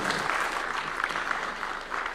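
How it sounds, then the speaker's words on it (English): An audience at a State House event gives a president sustained, steady applause, dense clapping from many hands filling the whole stretch. "Round of applause for His Excellency one more time."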